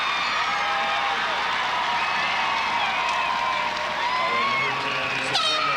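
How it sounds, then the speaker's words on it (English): A basketball crowd at a 1997 girls' high school semifinal at Loyola Academy reacts to a player's fifth foul, a steady wash of murmuring, shouts and scattered cheering filling the gym. "The Loyola crowd reacts"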